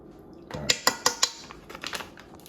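Buttermilk, garlic powder and onion powder are stirred in a bowl, giving a short run of sharp clinks and taps of a utensil against the bowl, close and moderately loud, then softer scraping, with no speech.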